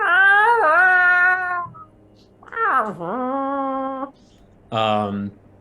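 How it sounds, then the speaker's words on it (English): A disgruntled stray cat caught in a cage lets out three loud, drawn-out yowling meows, each rising and then sagging in pitch, with short quiet gaps between them. "in the back you hear the disgruntled sounds of a cat, a stray cat caught in a cage"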